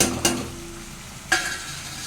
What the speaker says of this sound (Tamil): இப்படி கிண்டி விட்டு